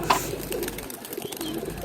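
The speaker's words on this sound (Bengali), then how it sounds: "একদম পরিত্যক্ত জায়গায় সাদে কবুতর পালন করছেন এক বড় ভাই" Pigeons kept in a rooftop loft in an abandoned spot coo softly at close range, with one short call near the start over a steady background murmur.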